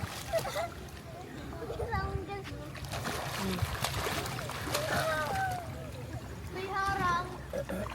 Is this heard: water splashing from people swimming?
yes